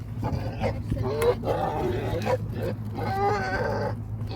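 Pig grunting and snorting close by during hoof trimming, short rough bursts over a steady low hum, with people talking throughout.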